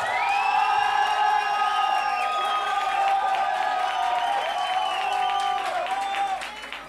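A television talent contest crowd applauds a contestant loudly and continuously for nearly seven seconds. High cheers and whoops ring over dense clapping, then it eases off slightly at the close.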